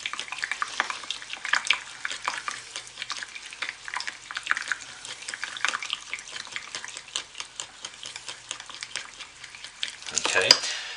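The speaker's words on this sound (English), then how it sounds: "I just want to use my whisk at this point" A whisk stirs solid pieces through thick soap batter in a bowl, giving soft, irregular scraping and sloshing strokes at close range, ending in a brief louder clatter.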